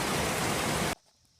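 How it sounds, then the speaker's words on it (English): Heavy rain pours down outdoors in a dense, loud hiss, then cuts off abruptly just before the end, leaving near silence with a faint tap. "It's a pretty big old downpour here."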